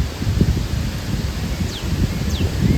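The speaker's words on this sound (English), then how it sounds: "In the heavy wind." Steady outdoor wind with rustling leaves, a continuous low rush that rises and falls, with a couple of faint high chirps over it.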